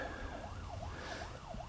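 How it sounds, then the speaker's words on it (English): Emergency vehicle sirens wailing in the distance during bad storms near a homestead, a faint, steady rising-and-falling tone under broad outdoor noise, with no voices. "There's sirens over here and sirens over here."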